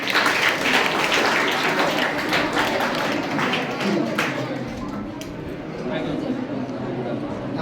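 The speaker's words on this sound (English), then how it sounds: "You have big applause." A hall audience applauding at a semester results announcement, with dense, sustained clapping that fills the space, mixed with crowd chatter and a voice talking over it.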